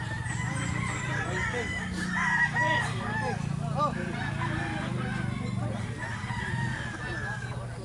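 A good-quality, light black-legged rooster crows amid other fowl, its call rising over steady rural background noise and clucking, with some voices in the area.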